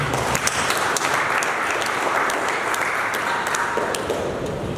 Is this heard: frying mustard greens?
no